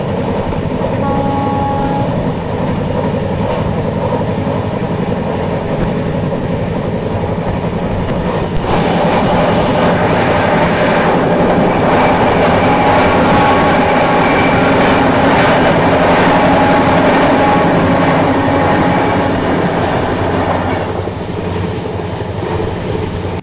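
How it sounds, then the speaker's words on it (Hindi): The Konark Express rolls past close by, a loud, continuous rumble and rhythmic wheel clatter swelling after a few seconds and holding for most of the stretch before easing slightly. "मेरे ख्याल से कोणार्क एक्सप्रेस आ रही है"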